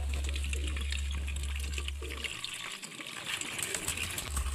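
A homemade liquid deworming remedy for pigeons is strained through a cloth, giving a close trickle and splash of liquid. A low steady hum runs underneath for the first half.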